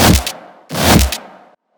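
Two heavy layered dubstep synth bass hits, the second a wide layer with mids cut and sides boosted, each bursting loud across a broad range for about half a second before cutting off.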